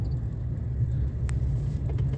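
Steady vehicle rumble from a cleaning vehicle outside an airport departure terminal, a continuous low drone with brief faint higher clatter.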